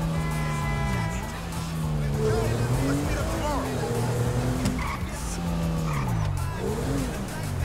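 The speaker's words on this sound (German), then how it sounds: "wir fahren jetzt mal direkt weiter zu Simeon und machen die nächste Mission." Car engine and squealing tires while driving in Grand Theft Auto V, a steady motor hum rising and falling with repeated skids, under continuous talk from a player.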